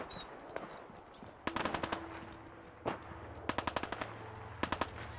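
Bursts of rapid gunfire in Fallout 4, short automatic volleys and single shots spaced irregularly during a fight with raiders, with a faint tone and low hum underneath.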